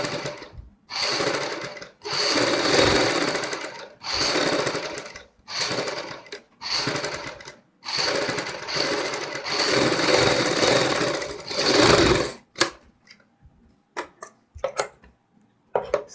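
A sewing machine stitches piping onto a kurti neckline in rapid bursts, each run a few seconds long with short pauses between, close and clear, ending in a few light clicks.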